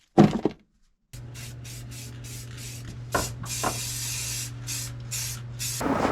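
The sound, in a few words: oscillating tool removing sound-deadening material from floor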